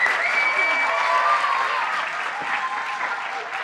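Audience applause fills a school spring concert hall, a dense, steady wash of clapping held at a loud, even level throughout.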